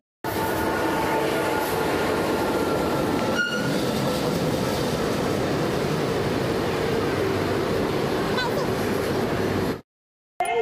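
A train at Balangir railway station makes a loud, continuous rumble with rolling wheel noise and faint squeals. The sound cuts off abruptly near the end, and voices mix in at times.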